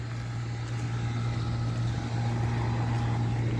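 An old 1986 Carrier round-one or 1993 Armstrong air conditioner runs outdoors with a steady, loud mechanical drone and a constant low hum, carrying evenly without a break.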